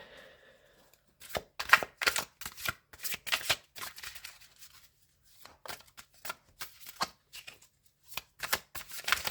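Tarot cards shuffled by hand in repeated quick riffling bursts, close and fairly quiet, with short pauses between rounds of shuffling.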